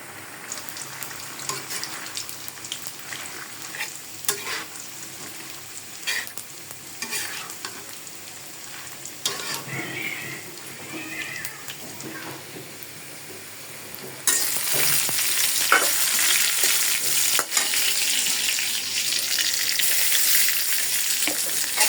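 Onion, garlic, green chili and a little leafy greens with drumsticks and potato go into hot oil in a frying pan: a steady sizzle with scattered stirring scrapes, jumping to a louder, fuller frying hiss partway through.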